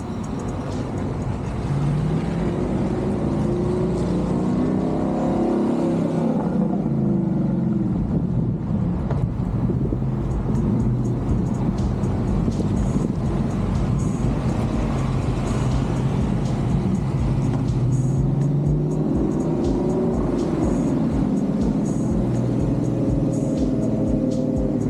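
A car passes at a Mustang club gathering, the engine sound swelling and fading twice across a steady outdoor wash with some wind noise on the microphone, fairly close and with no one talking.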